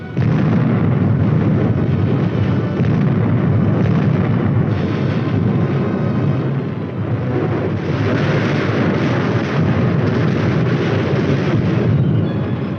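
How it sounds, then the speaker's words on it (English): A 1950s US Army artillery barrage thunders in dense, overlapping booms and rumbling blasts that roll on without a break. The sound is loud and heavy, with a muffled, old-recording quality. "At the Artillery Fire Direction Center, the firing data is prepared and the guns respond"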